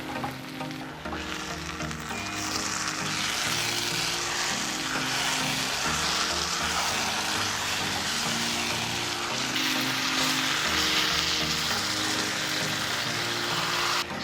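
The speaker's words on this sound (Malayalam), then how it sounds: "ഇനി നമുക്കിതൊന്ന് തുറന്ന് നല്ലോണം ഒന്ന് ഇളക്കി കൊടുക്കാം." Beef curry cooking in a pan, giving a steady close sizzle and bubbling with occasional stirring scrapes throughout, with no talking.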